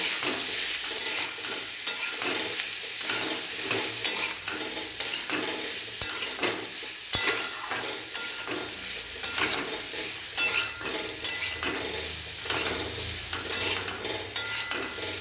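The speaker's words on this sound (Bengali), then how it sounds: "ভালো করে তেলে এগুলোকে নাড়াচাড়া করে নেওয়ার পর" Sliced kohlrabi fries in oil with salt and turmeric as it is stirred in a pan. A steady, loud sizzle runs throughout, with regular scraping strokes of the spatula and no talking.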